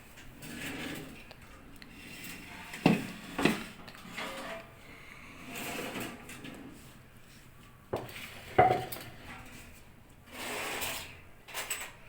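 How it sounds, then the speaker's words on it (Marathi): A rolling pin works shankarpali dough on a board with repeated rumbling strokes. Occasional sharper knocks break in, and the sound stays mostly alone. "तोपर्यंत आपण हे शंकरपाळे तर लाटून घ्यायचे."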